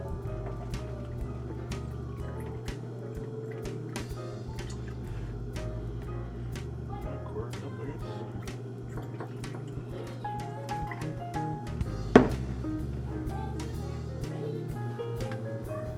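A quarter cup of soy sauce poured into a measuring cup in a kitchen, heard as a quiet trickle with scattered drips and small ticks over a low background hum, with one brief sharper knock near the end.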